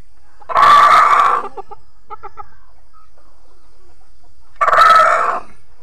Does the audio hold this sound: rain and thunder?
no